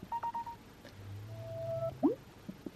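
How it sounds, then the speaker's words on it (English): An iPhone 15 plays its AirDrop sharing sound: a short series of bright electronic tones and rising chirps, close and clear, with no talk over it. "So it's super easy to airdrop now. Kind of fun as well because it makes a cool kind of noise."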